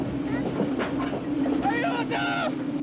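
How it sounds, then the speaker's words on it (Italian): A train's low steady rumble with faint rail clatter runs continuously as it gathers speed, while voices speak over it. "Il treno sta prendendo velocità."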